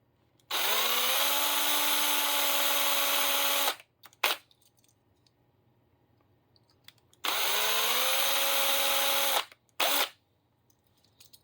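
Cordless power drill spinning with the bit in reverse, two sustained whining runs of about three seconds each with a steady pitch, each followed by brief trigger blips, close and loud.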